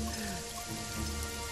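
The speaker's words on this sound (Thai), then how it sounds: "โหฝนตกอีก" Steady rain falls in the video game Jagged Alliance 3, a dense, continuous hiss of drops that fills the scene with no voices over it.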